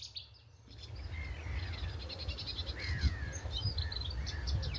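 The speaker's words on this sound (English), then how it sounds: "that's the Chettis warbler. It's like just an ongoing kind of chatter" A Cetti's warbler gives a bright, ongoing chattering call outdoors, mixed with other birdsong including a singing dunnock, fairly faint over a low steady background rumble.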